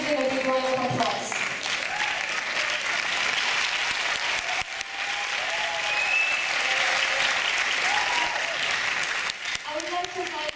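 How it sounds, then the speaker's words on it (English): An audience at a university Women's Day event applauds women, a broad, sustained round of clapping from a large crowd, steady throughout, with a voice briefly heard at the start and again near the end. "Let's all give them a big round of applause."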